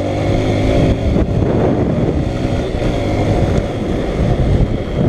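A Honda Bros 160 motorcycle rides along, its engine droning steadily under heavy rushing wind noise on the microphone, loud and close throughout.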